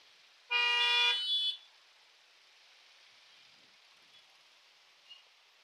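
A single car horn blares for about a second amid traffic held up by road works on a workday commute, then fades into a steady hiss of distant traffic with a few faint knocks.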